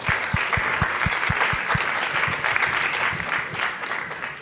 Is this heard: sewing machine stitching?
no